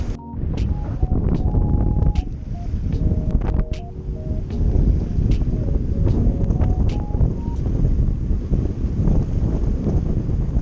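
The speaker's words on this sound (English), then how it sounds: "it's that there is lots of wind." Strong gusting wind, around 35 knots, buffets a sailboat at anchor in the Caribbean, making a loud, continuous roar and rumble of wind on the hull and microphone, with intermittent creaks, whistles and tonal squeaks from the rigging.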